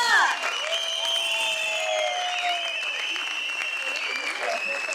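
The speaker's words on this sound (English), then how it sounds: "Keep cheering our little ones." Parents applaud and cheer at a school annual concert, with whistles sliding up and down over a steady wash of clapping and crowd noise, loud and lively for the whole stretch.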